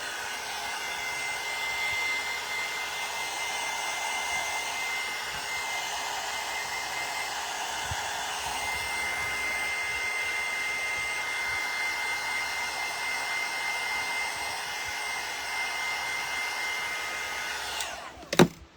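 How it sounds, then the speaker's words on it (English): A hair dryer blows steadily and close while drying cinnamon on a craft decor piece, a constant airy whir that holds for nearly the whole stretch before clicking off near the end. "And then I'll dry it and just kind of make it melt in there a little bit."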